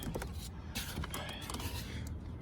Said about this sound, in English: So now I just pick the door panel straight up like that and lift it up off of there.